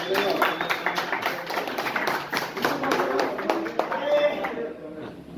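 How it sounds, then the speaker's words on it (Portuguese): A crowd at an outdoor rap battle in Paraná claps along, steady sharp bursts of applause mixed with shouts and a chatter of voices. "Não, palmas, palmas, palmas."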